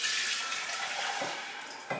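Water runs steadily into a kombucha container as tea and water are combined toward a gallon, a continuous broadband splashing stream, fairly loud and close, with a brief extra splash near the end.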